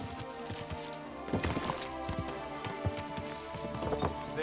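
A horse's hooves clip-clop on the ground in Kingdom Come: Deliverance II, an uneven walking rhythm of close hoof strikes over continuous background sound.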